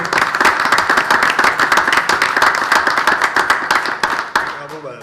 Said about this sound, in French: Voulez-vous qu'on fasse une petite main d'applaudissement?